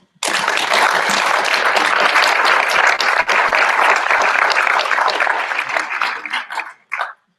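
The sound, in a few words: audience applause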